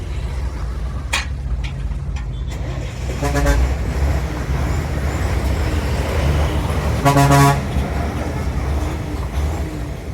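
Heavy road traffic on the NH66 highway near Payyoli and Vadakara, with trucks, buses and cars rumbling past continuously, several sharp horn blasts, and two longer loud honks standing out over the steady engine drone.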